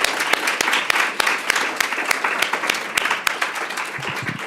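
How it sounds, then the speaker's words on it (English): Audience applause for a panel at a discussion event, steady clapping with distinct individual claps standing out, moderately loud and continuous before tapering at the end. "I just want to ask everybody to give our panel a big round of applause."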